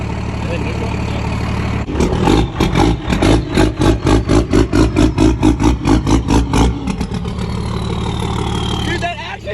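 A truck's 6.7-litre engine revs hard through its exhaust tip in a rapid rhythmic series of deep, throaty bursts, then drops back to a steady rumbling idle.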